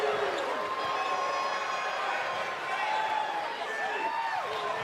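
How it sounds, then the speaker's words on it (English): A wrestling arena crowd at a live Raw event keeps up a steady, dense murmur throughout, a continuous buzz of many voices with no distinct cheers standing out. "The crowd is buzzing about what he has to say about the champ."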